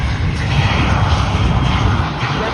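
A jet airliner taking off at Fort Lauderdale airport, a loud, close, broadband engine roar that holds steady and dense throughout the short stretch.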